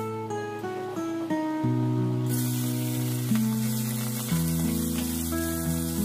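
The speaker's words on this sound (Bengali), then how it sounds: "আমি নুন হলুদ দিয়ে মাছগুলো মেখে এখন ফ্রাই করছি" Tengra fish coated in salt and turmeric frying in hot oil, a steady close sizzle that rises sharply partway through and holds, with tonal background music underneath.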